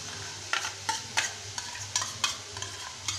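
Two spoons of milk cream are stirred into fried masala in a pan over low heat for Indian-style pasta: regular scraping strokes of a spoon about every half second over a soft, steady sizzle, close and without talk.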